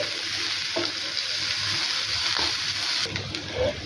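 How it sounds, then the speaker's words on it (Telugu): Onions, green chilies and curry leaves frying in a pan, a steady close sizzle with scraping stirs running throughout. "ఒక రెండు మూడు పచ్చిమిర్చి కొద్దిగా కరివేపాకు కూడా యాడ్ చేసేసుకొని బాగా ఫ్రై చేసుకోవాలి"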